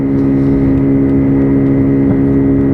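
A WK Colt 50cc moped engine held at full throttle, a steady loud droning buzz with no letup, heard up close throughout with no talking.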